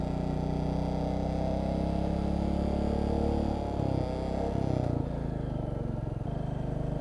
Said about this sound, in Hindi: घुप अंधेरे में जा रही है बाइक